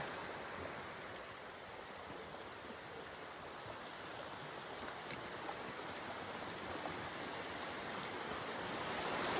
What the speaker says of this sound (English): And now we have made it to the creek.